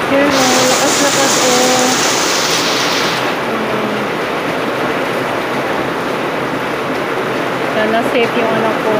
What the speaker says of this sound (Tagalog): Lakas naman ang ulan.